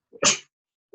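A single loud, close human sneeze during a classroom lecture on transistors: a quick breath in, then a sharp burst that fades fast into silence.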